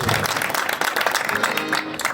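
Lively crowd applause for a traditional Marathi dabalbari bharud performance, loud dense clapping close by and continuous throughout, with some voices mixed in.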